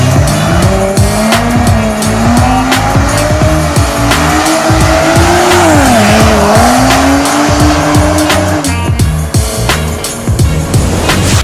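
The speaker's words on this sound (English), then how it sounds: "So I was just doing massive burnouts for a while, just so I can destroy those tires." Car doing long burnouts at a dragstrip, a loud revving engine rising and falling over continuous tire squeal and screech, close and sustained throughout.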